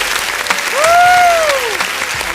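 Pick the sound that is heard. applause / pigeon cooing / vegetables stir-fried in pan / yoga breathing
applause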